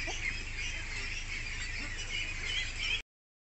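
Pekin ducklings on a duck farm make a dense, continuous chorus of high peeping and quacking, fairly close and steady for three seconds before it cuts to silence.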